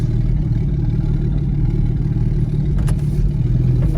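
A turbocharged Jeep Comanche pickup's engine runs loud and close with a knock, a dense steady roar with a brief rattle near the end and no voices.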